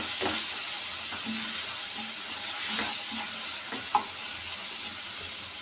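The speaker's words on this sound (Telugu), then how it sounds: "టమాటా వేగింది కదా, ఆయిల్ ఇట్లా వచ్చేస్తుంది పైకి" Tomatoes fry in oil in a pan with a steady close sizzle and hiss, broken by a few soft stirring clinks and scrapes.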